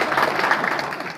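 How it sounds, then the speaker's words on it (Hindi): Brief burst of audience clapping at a seminar, moderately loud and dense, fading slightly toward the end. "ताली बजा दीजिए।"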